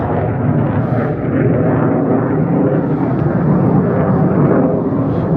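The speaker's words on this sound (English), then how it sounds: "there's a really loud aeroplane somewhere" A loud, continuous roar of an airplane passing overhead beyond the clouds on a cloudy summer day in Cleethorpes, a broad rumbling drone that holds steady throughout.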